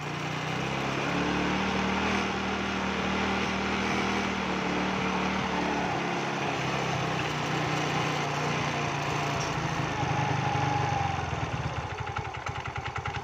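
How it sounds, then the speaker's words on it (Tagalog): A small motorcycle engine runs roughly nearby, a constant rattling drone with uneven sputtering that grows choppier toward the end. "sana marinig nyo yung tunog ng makina"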